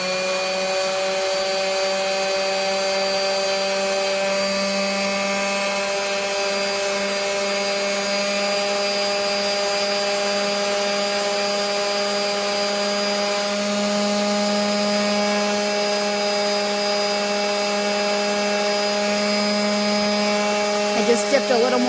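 A power tool wet sands a polymer clay pendant, giving a steady, close, continuous whine with a buzzing hum that holds for the whole stretch and shifts slightly near the end.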